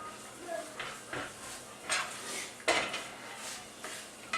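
A lobster, egg and cheese mixture is flipped and stirred in a pan, giving soft scraping and clinking of utensil against metal with a faint sizzle, a few sharper taps spaced irregularly, while someone talks quietly.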